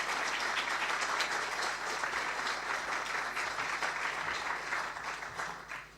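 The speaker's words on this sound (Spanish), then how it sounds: "Un aplauso." A large audience at a formal ceremony applauds a speaker, a dense, even wash of clapping that fills the hall for several seconds and thins slightly at the end.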